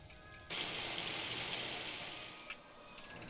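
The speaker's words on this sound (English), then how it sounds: "Run cold water over them." Water gushes from a tap in a steady stream for about two seconds, then cuts off, leaving a few small drips and clinks.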